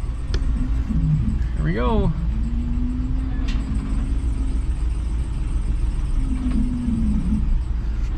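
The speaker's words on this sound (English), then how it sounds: "the limited slip helical differential will just spin the wheel in the air without actually putting traction to the wheel on the ground" A jacked-up RAM 2500 Rebel HD with a 6.7L Cummins diesel spins a lifted wheel in the air through its limited-slip helical differential. A steady engine rumble carries a rising drivetrain whine, with a brief spoken remark near the start.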